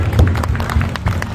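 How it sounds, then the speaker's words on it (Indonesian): Audience applause at a community event organised by a neighbourhood youth group in Pisangan Baru, a dense, steady wash of clapping filling the space for a short burst without pause. "Tepuk tangan dong."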